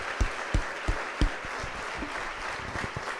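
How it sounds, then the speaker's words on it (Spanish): A church congregation breaks into a wash of steady applause during a sermon, with a few sharper claps standing out near the start before the sound settles into a continuous patter. "Dale un aplauso a Cristo por esto,"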